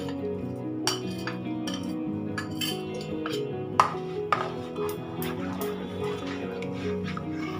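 Metal spoon clinking and scraping against a pot while Gobindobhog rice powder is stirred steadily into milk for mango kheer, with intermittent sharp clinks over a constant low background hum.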